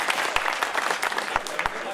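Audience clapping at a Hindi poetry recital (kavi sammelan): a moderate patter of claps with a few sharper, louder ones standing out, and a voice talking over the applause.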